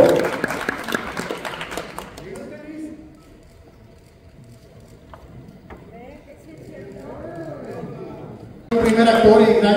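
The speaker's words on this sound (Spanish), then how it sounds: "Quiero que le brindemos un fuerte aplauso al personaje de Miranda Moore." An audience at a theatre cast presentation claps loudly for a cast member, the applause fading into quieter hall noise and voices, then a fresh loud burst of clapping at the end.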